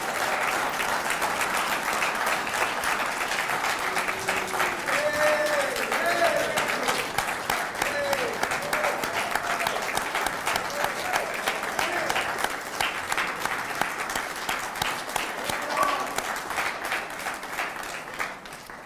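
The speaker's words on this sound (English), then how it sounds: "So can we give one big applause for all of these inductees again?" A room of guests applauds journalism hall of fame inductees with sustained, even clapping that carries on for a long stretch and tapers slightly near the end, with some faint voices mixed in.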